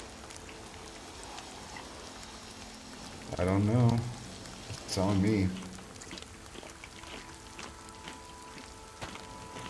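Steady rain hisses softly and continuously in DayZ on the Deadfall map, while players talk over it in two short bursts.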